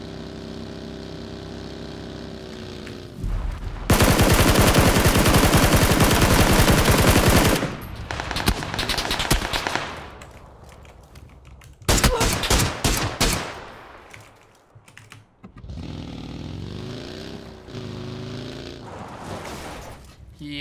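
Video game gunfire in a chase, long loud bursts of rapid automatic fire alternating with stretches of engine drone and other game effects, close and dominant, no talking.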